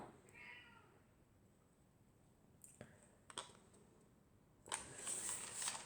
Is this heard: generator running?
no